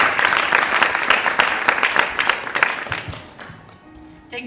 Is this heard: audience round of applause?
yes